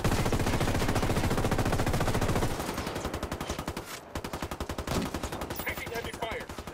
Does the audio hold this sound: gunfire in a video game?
yes